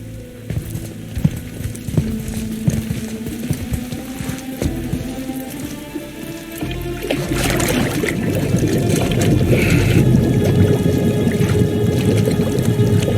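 In the God of War game, water sloshes and splashes as a head is held under the surface, with gurgling and trickling that swell louder toward the end against a low game score, no voices.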